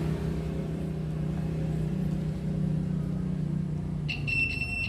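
A steady multimeter continuity beep switches on near the end and holds, over a low constant hum, while checking wiring on a Beat FI motorcycle.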